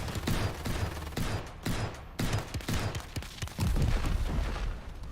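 An alien unit's primary weapon fires in the Silica strategy game, a rapid run of loud, close bursts and booms with short pauses between volleys.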